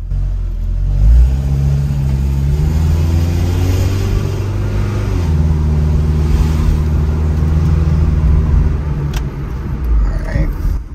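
A high-mileage car's engine, which sputters at low speed, idles low, then revs and shifts as the vehicle pulls away from the curb, its drone steady and close throughout.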